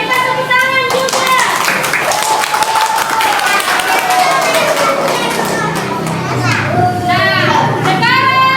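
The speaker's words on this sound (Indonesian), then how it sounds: "Diberikan tepuk tangan juga." Fourth-grade pupils in an elementary school classroom clap together for a group of classmates, a steady patter of many small hands mixed with high children's voices chattering throughout.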